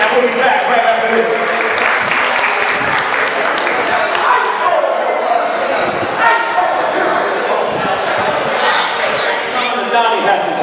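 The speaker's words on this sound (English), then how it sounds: "Give yourselves a round of applause." Convention audience applauding, a dense, steady wash of clapping that runs loud the whole way with crowd noise and a voice mixed in on top.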